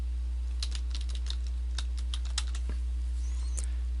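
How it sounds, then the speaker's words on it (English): Fingers type a domain name on a computer keyboard during a WordPress setup, a quick run of crisp key clicks over a steady low electrical hum, ending in a few sparse taps. "And then type in your domain name."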